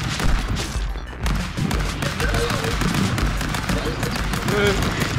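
Bursts of rapid gunfire crackle in the Stick Fight video game, dense and loud, mixed with excited shouting from players.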